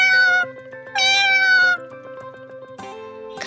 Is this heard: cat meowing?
yes